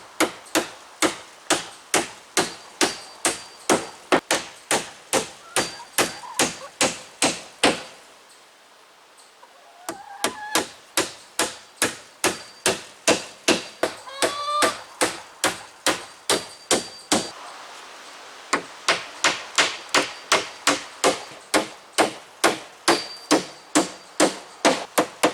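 Steady hammer blows driving 2.5 inch spiral nails into wood while building a chicken pen door, sharp ringing strikes in quick regular runs separated by two short pauses, close and loud.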